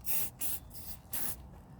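A spray can misting the rubber window seals of a car, three quick hissing bursts separated by short pauses, close but fairly soft, with no voices.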